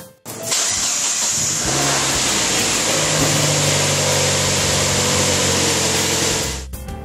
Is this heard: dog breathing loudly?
no